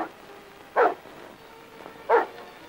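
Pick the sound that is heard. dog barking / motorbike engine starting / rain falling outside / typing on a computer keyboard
dog barking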